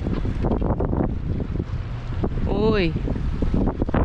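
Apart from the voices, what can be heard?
wind blowing at harbor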